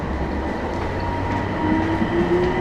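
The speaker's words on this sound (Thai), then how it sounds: "ดี๋ยวเรามาดูบรรยากาศในขบวนรถนะครับ" The steady rumble and hum of the inside of a moving Gold Line electric train car in Bangkok fill the space, with a rising faint whine of the motors and no speech.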